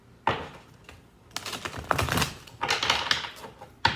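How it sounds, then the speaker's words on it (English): Close-up cards riffle and snap in quick clattery bursts, pausing briefly between shuffles. "The cards usually shuffle."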